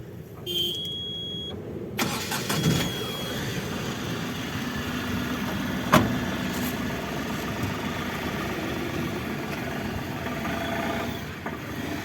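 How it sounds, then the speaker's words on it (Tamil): An Ashok Leyland Dost Strong LX BS6 light truck engine cranks and fires up, then settles into a steady, rumbling idle heard close by for several seconds. "இப்போ இந்த வண்டிக்குள்ளே இன்ஜின் ஸ்டார்ட் பண்ணி இன்ஜின் சவுண்ட் கேட்போம்"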